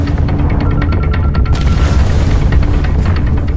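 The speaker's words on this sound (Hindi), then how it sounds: "मोर्टार एक वेपन होता है, उसका बॉम्ब पैराबोलिक ट्रेजेक्ट्री लेके मेरी तरफ आया" A mortar bomb explodes in a loud, rumbling blast whose deep roar fills the whole moment without any voices.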